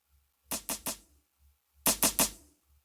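Offbeat snare sample used as percussion in a psytrance kit, played in two bursts of three quick, bright, snappy hits with a little low rumble between, close and alone.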